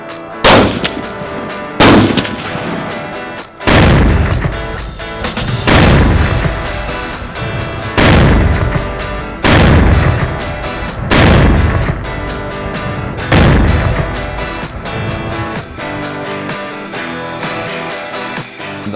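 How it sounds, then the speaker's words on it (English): Rifle gunshots at shooting practice, loud booming reports spaced a couple of seconds apart, each trailing into a long rolling echo, about eight shots in all. "we're about to practice two different types of shooting methods for engaging a moving target"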